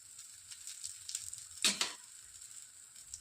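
Thin besan poli, a gram flour flatbread, fries in oil on a pan with a steady, soft sizzle. One louder crackling burst about midway sounds like oil hitting the hot surface. No talk.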